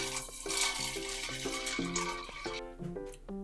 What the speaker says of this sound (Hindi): उसमें पानी ऐड करेंगे